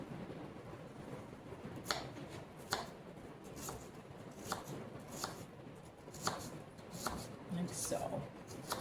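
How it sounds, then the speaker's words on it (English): A knife finely chops an apple on a board in a home kitchen, giving a run of soft, irregular cutting taps over a low, steady background. "Try an apple. I'm going to cut it kind of fine."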